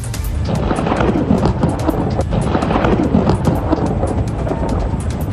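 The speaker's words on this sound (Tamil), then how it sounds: "கடலூரிலும் இடி மின்னலுடன் கூடிய சாரல் மழை பெய்தது." Thunder rolls loud and continuous through a rain shower in Cuddalore, a deep rumbling roar with a steady hiss of rain throughout and no voices.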